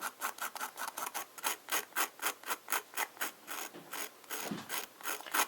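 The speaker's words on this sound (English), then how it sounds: "You don't have to grind the nib in there." A fountain pen nib is worked by hand on fine 1500-grit abrasive, making a quiet, close, rhythmic scratching of about two strokes per second, with no talk.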